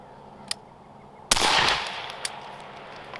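Suppressed rifle with an adjustable gas block set to 2 fires one close, muffled crack that decays quickly, with faint clicks and handling noise before and after.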